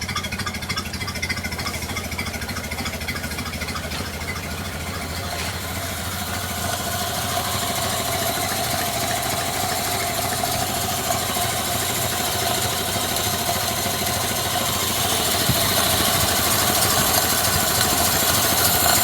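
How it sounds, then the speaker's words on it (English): A 1930 Ford Model A Tudor engine at slow idle, around 350 rpm, with no air filter on the carburetor, giving a steady close-up rumble and an airy sucking hiss from the intake that runs throughout. "And that's the sucking sound. It's the carburetor breathing."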